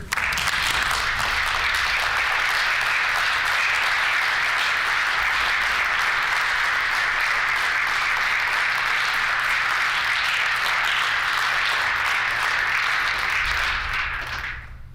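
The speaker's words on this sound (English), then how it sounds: "Let's give Eric a round of applause" Sustained applause fills a provincial legislative chamber for about fifteen seconds, a dense, steady wash of many hands clapping at even loudness before tapering off at the very end.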